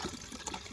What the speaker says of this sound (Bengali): এই দেখো জল যাচ্ছে।